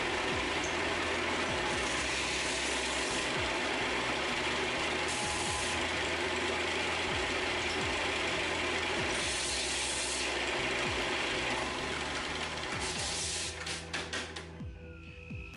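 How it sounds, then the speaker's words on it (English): A power sander works a small wooden block for a homemade camera lighting mount, a continuous close gritty rasping hum with uneven scraping strokes before the motor cuts off and the noise trails away at the end. "Don't stop your sander like that."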